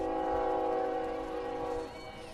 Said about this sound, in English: would that be about the 4 o'clock train coming through a little early